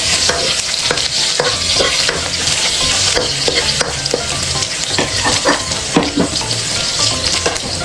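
Ginger frying in a pan as the start of chicken tinola, a loud, dense sizzle with frequent sharp stirring clicks and scrapes of a utensil against the pan.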